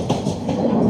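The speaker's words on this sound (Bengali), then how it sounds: "এইমাত্র আমাদের ট্রেন চট্টগ্রাম রেলওয়ে স্টেশন থেকে ছেড়ে আসছে" Inside a coach of the Sonar Bangla Express leaving Chattogram, the carriage rumbles steadily on the rails with a rhythmic clatter, loud and continuous, with no voices.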